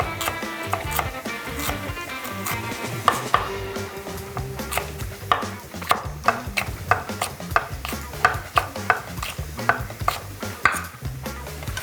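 A knife slices a red bell pepper lengthwise on a cutting board, making a run of crisp, evenly paced chops that grow more regular, close and clear over a soft background sizzle.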